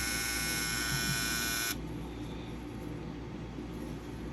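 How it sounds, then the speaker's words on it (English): A BaByliss FX3 electric hair trimmer fitted with an FX3 blade runs with a bright, steady buzzing hum for under two seconds, then cuts off, leaving a quieter room-level hum behind. "FX3 trimmer, and we have our FX3 blade on there."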